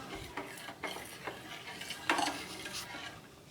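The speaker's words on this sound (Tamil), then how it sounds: "நல்லா மிக்ஸ் பண்ணிக்கிறலாம்" A spoon stirs custard powder into milk for a semiya dessert, giving soft swishing strokes and a few light clinks against the vessel, close and fairly quiet.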